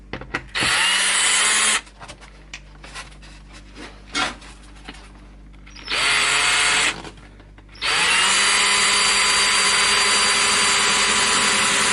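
A power drill drives screws into a foam-insulated ultrasonic cleaner enclosure in three loud bursts of whirring, close and sharp, separated by quieter handling clicks and rustles.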